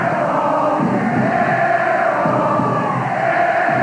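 A college basketball crowd roars at a Duke home game against Maryland, a loud, sustained arena din of cheering and shouting that holds steady throughout with no clear break.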